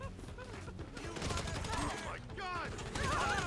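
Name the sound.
gunfire in GTA V video game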